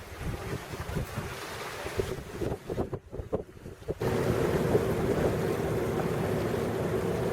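A sailboat runs downwind at sea, filled with loud blustery wind buffeting the microphone and the rush of water, dipping briefly in the middle before surging back steady and strong.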